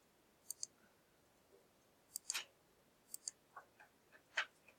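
Computer mouse clicks in a quiet room, a few sharp isolated clicks with short gaps, some in quick pairs, close and fairly faint, with no talking.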